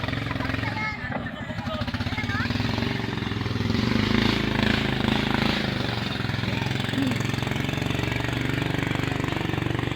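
A motorcycle engine drones and swells as it passes close by on a street during a birthday gathering, with people talking and shouting over it.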